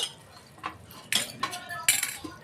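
A metal lid set onto a pan of Bengali-style rohu fish curry with the flame turned off, giving a few sharp clinks and rattles close by, alone without talk.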